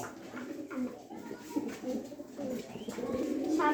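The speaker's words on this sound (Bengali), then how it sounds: "এটা এই জোড়াটা লাহরি কবুতর" A pair of Lahori pigeons coo close by in repeated soft, throaty rolling phrases, with a faint voice in the background.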